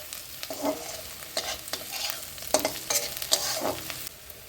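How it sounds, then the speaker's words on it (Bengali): Chopped garlic and dried red chilli frying in hot oil for jute leaf fry, a constant sizzle with repeated spatula scrapes and stirring strokes, close and clear. "তারপরে এই রসুন কুচিগুলো দিয়ে দিচ্ছি।"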